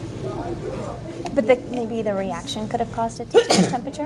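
A sneeze bursts out sharply near the end of an ongoing conversation in a classroom, cutting in over a voice discussing an experiment.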